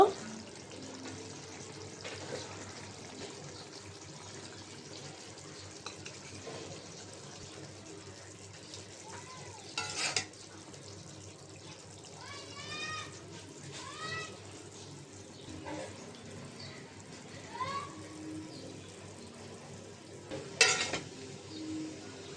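Cooked small mixed fish being stirred and scooped out of a pan, with soft scraping and clinking from the utensil over a faint simmer, plus a couple of louder metallic knocks.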